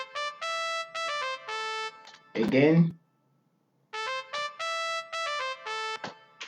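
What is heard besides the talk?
keyboard solo melody played in FL Studio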